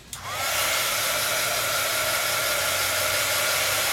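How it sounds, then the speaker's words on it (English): A Zap heat tool switches on and blows hot air steadily to dry stenciling on a mixed-media handheld mirror, a loud, close, continuous hiss-like roar with no talking. "I'm using my Zap heating tool."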